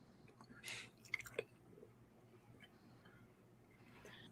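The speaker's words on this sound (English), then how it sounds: "I asked earlier if I was chewing too loud." Someone chewing food while eating, with faint, close mouth clicks and soft crunches clustered early, then quieter low rustle over a steady hum and no clear talk.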